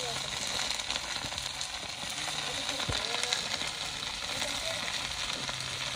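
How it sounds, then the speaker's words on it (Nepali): Food fries in a pan, giving a steady, close sizzle and crackle that holds level throughout, with faint voices in the background. "सबै भुट्ने नि रहेछ"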